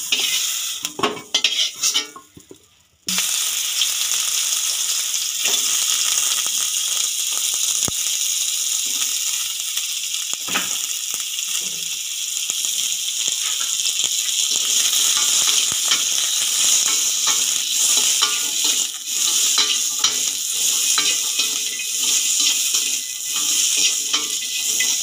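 Cauliflower fries lightly in oil in a pan, giving a steady, dense sizzle with occasional stirring scrapes. The hiss runs continuously for about twenty-five seconds after a brief louder clatter at the start.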